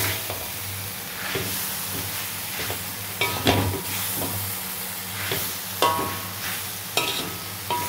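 Beef liver stir-fried with turmeric, a continuous close sizzle with repeated rhythmic scrapes and clatters of stirring every second or so, no talking.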